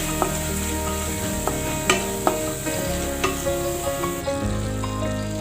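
Spices frying in a pan for a pumpkin flower curry are stirred with a spoon, giving steady close sizzling broken by sharp scraping clicks every second or so, with no talking.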